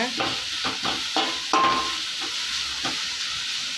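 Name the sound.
grated carrot being stirred and fried with mustard seeds and curry leaves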